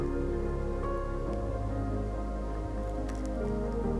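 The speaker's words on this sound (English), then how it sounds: "So I'm just going to saute this for a little while" Chopped red onion and tomato sizzle in a hot pan, a steady wet crackling hiss that stays loud and continuous with no voices.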